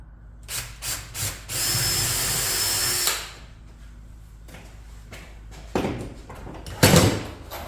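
Power drill whirring in short bursts during a passive solar heater build, a few brief spins then one sustained run of about a second and a half, with tool clatter and knocks around it, close and fairly loud.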